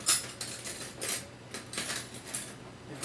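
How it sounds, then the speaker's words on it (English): Metal cutlery clinks as a spoon is picked up, with several light, bright jangles and taps spread over a few seconds, close and quiet, with no speech. "Now I need to grab a spoon"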